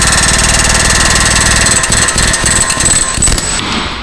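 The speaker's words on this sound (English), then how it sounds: "I've got an actual air hammer bit for those" Pneumatic air hammer driving hard on the front lower ball joint of a Chrysler 200, a loud, rapid, close-up mechanical rattle that hammers on continuously with brief dips.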